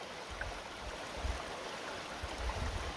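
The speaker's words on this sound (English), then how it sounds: "if you can hear the water, that sounds so peaceful." Water flowing in a natural stream over rocks, a steady broadband rush with soft low gurgles, continuous and fairly close, no voices.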